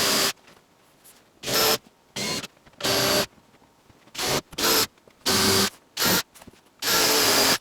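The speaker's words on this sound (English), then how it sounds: "So I'll just throw some screws in here to hold it in" A power drill drives screws into a model railroad lift bridge in about nine short, loud whirring bursts of varying length, separated by quiet pauses.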